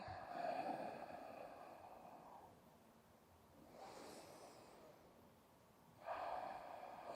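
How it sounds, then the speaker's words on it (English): Slow breathing during a maternal wellness yoga session: a few long, soft breaths in and out, faint and airy, with quiet stretches between them. "Slow breathing."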